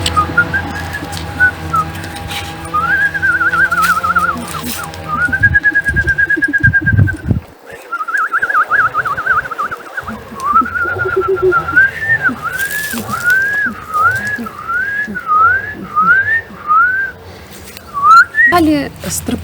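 Whistled bird-like calls, rising chirps repeated in a steady series, over a low background hum with some talking mixed in.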